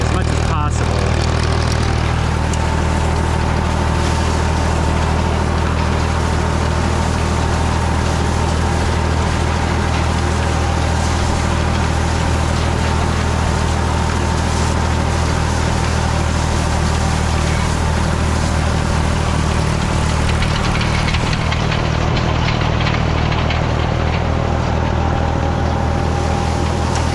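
A tractor pulls a hay tedder across a mown hayfield in a wet hay season, its engine droning steadily and loud throughout with a continuous low rumble and mechanical clatter, no voices over it.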